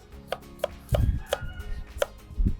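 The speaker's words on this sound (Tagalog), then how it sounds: "So we'll cut our onions first." Onions being chopped into small pieces on a board, a run of crisp, evenly spaced knife strikes with a few heavier thuds, close and clear with no talk.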